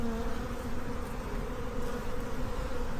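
Honey bees hum in an open hive box, a dense, steady buzzing swarm close by with no break and no talking.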